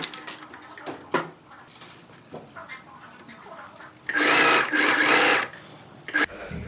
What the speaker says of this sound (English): now we're going to stitch them into place using the same running stitch we've been using throughout this video